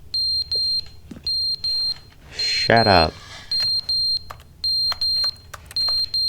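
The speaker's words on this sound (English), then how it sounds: "Is that a fire alarm or a time bomb about to go off?" A fire alarm in The Stanley Parable video game beeps in steady, evenly spaced electronic pulses throughout. A voice speaks briefly over it partway through.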